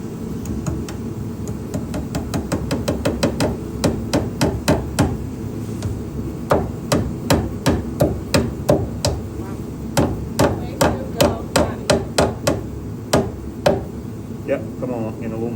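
Sharp hammer blows driving Romex staples into wood framing during electrical wiring, coming in quick bursts of close, ringing taps with brief pauses between runs.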